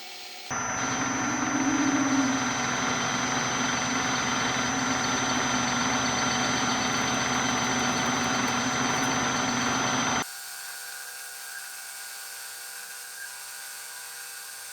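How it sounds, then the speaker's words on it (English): A drill bores a hole for the firing pin through a small metal part for a homemade 12-gauge shotgun perimeter alarm, a steady high machine whine held for about ten seconds before cutting off abruptly to a quieter hum. "we're going to drill a hole for the firing pin to fit through"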